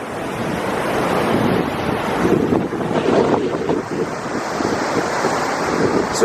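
Strong wind roars steadily through Eldorado Canyon, a dense, loud rush buffeting the microphone without letup.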